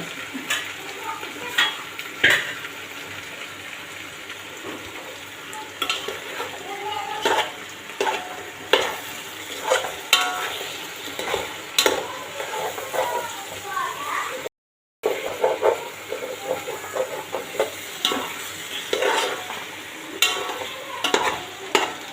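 Chicken being cooked in a pot for dum biryani sizzles and fries steadily, with occasional stirring scrapes and clinks of a utensil, while someone talks over it.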